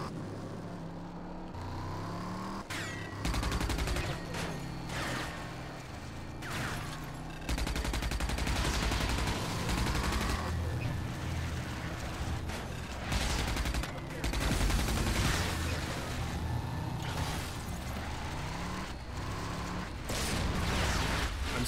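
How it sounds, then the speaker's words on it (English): Pulse cannon and other weapons firing in the video game RAGE, dense bursts of rapid gunfire and booming blasts over a roaring vehicle-like rumble, continuous and loud, with occasional game voices. "We have a third weapon, the pulse cannon."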